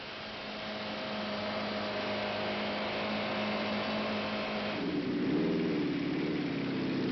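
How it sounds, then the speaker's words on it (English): A Kawasaki motorcycle ridden at about 85 mph, a steady engine drone with wind roar that holds throughout and rises slightly in pitch near the end. "At 85, the bike begins to weave quite spontaneously."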